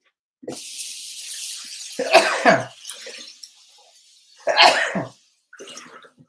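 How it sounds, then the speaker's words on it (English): Someone sneezing while cooking a plant-based meatloaf with white pepper: two strong, close sneezes separated by a pause, along with shorter bursts of coughing and throat noise, and running water audible at times. "that white pepper making me sneeze"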